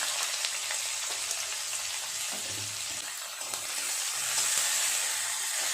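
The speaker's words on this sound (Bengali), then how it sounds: "পেঁয়াজটা ভালো করে ভেজে নিয়েছি" Chopped onions fry with dried chillies and bay leaf in a pan of oil, giving a steady, close sizzle with faint stirring underneath and no talking.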